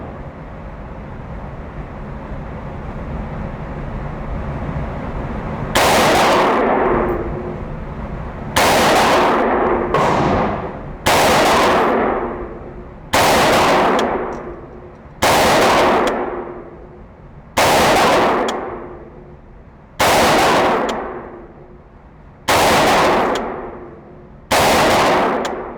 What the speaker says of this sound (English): This time we'll shoot 10 rounds.